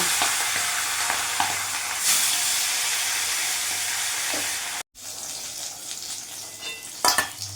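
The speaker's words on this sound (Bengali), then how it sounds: "ওই তেলের মধ্যে মাছের মাথাগুলো ভেজে নেব" Katla fish heads frying in hot oil in a pan give a loud continuous sizzle and hiss, close up, with occasional stirring clinks and spatters and no talking.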